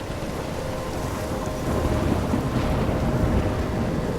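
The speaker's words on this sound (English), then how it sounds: "I'm trapped in a storm?" Storm wind in the video game Life Is Strange, a steady roaring rush of gusts with a low rumble, swelling slightly louder about halfway through and continuing without pause.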